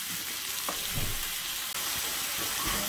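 Potato, chicken and zucchini gratin cooks under a lid in a pan, giving a muffled, steady sizzle with a few soft knocks and stirring bumps, close and even in level.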